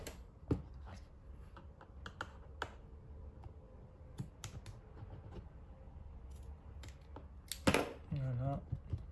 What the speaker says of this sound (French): Et là, je viens couper au ciseau